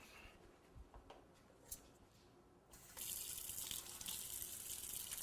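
A few soft clicks and taps, then water suddenly rushes in a steady, close, hissing stream that continues to the end.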